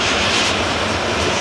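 A Ryanair jet from Santander roars past at Manchester Airport, a loud, dense engine rush filling the brief moment with no voices over it.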